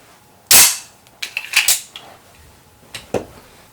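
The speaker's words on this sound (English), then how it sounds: "I'm going to push up on the slide lock slide release here with my right thumb" A semi-automatic handgun's slide slams forward after release from the slide lock, giving a sharp metallic clack followed by several lighter mechanical clicks and rattles, close and loud, with no talking.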